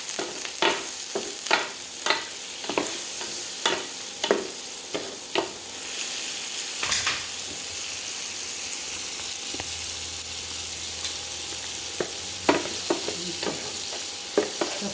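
Curry powder sizzles in a hot pan alongside mussels, garlic and bay leaf, a steady, loud frying hiss broken by regular scraping stirs and sharp pops throughout.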